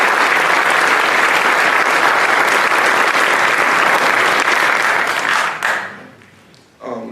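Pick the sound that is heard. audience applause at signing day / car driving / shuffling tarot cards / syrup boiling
audience applause at signing day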